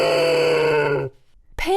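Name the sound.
pig grunting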